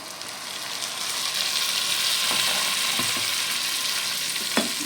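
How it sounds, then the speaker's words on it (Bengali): Water is poured onto finely ground, soaked spice paste in a hot pan, raising a steady loud sizzle and hiss that holds throughout, with a few faint stirring clicks near the end. "এটার মধ্যে আমি এবার জল দিচ্ছি"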